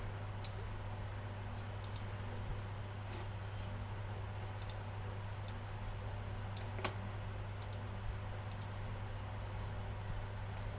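Sparse, sharp single mouse clicks sound while someone works in a spreadsheet, spaced a second or more apart over a steady low electrical hum, with no talking.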